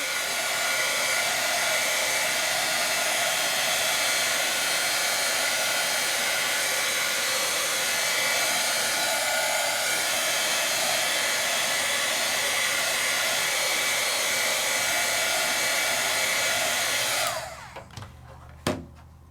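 A hair dryer runs close and loud for about seventeen seconds, drying Jacquard dye-based ink on rice paper, then switches off, followed by a few small clicks.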